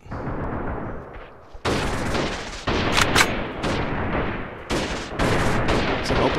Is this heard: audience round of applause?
no